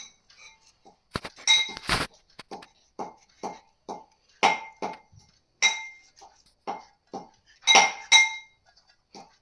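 A knife cutting slits into a fish being prepared for frying, heard as a series of short, crisp clinks and taps of metal against a plate or pan, irregularly spaced with a few louder strikes, close by and with no talking.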